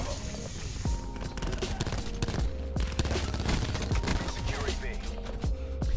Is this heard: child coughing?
no